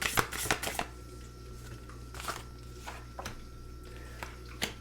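Tarot cards being shuffled in quick riffling bursts, a cluster at the start and more scattered flicks later, close and fairly quiet with no talking.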